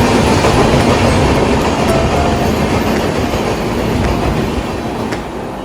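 A passenger train from Delhi to Ahmedabad runs at speed, a loud, continuous rumble with rail clatter heard from on board, fading slightly toward the end.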